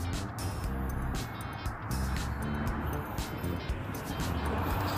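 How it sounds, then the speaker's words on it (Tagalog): A small sports car passes by on a street during a walking tour in Ripon, California, its engine and tire noise steady and fairly close, with no talk over it. "Ay, ang liit ng kotse, oh. Ito siguro tinatawag na sports car."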